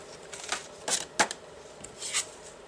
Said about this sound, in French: Alors maintenant je peux replier ma carte.